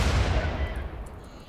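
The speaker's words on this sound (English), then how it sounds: "now the cannons are starting to load. Cool, first volley in" Cannon volley firing in RimWorld: a deep, heavy booming rumble hits at once and fades away over about a second and a half, with no talk over it.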